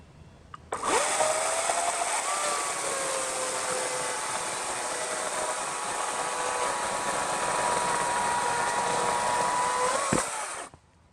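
A Ryobi 20-inch 40V electric chainsaw cuts through a sound tree, starting abruptly into a loud, steady high whine that shifts slightly in pitch as it bites into the wood, then cuts off sharply.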